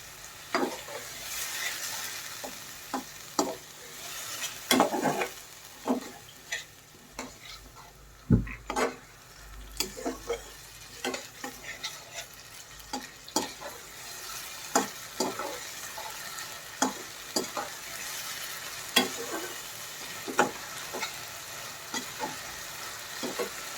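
Cumin, garlic and ginger paste sizzles and fries in a pan while a spoon stirs it, scraping and knocking against the metal in irregular strokes over a continuous soft crackle.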